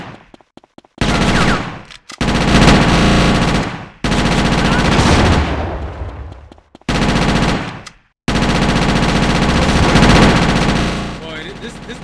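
Automatic M4 assault rifle gunfire in the video game GTA Chinatown Wars, loud sustained bursts broken by short pauses, with a brief quiet gap midway.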